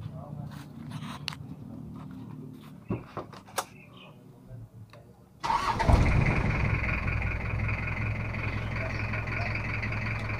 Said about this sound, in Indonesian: hidupkan dulu untuk mesinnya.